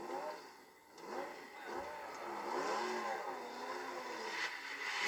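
A Mercedes race car at Le Mans in 1991 pulls out of the pit stop, its engine revving and rising through the gears with wavering pitch, fairly close, with a voice talking over it.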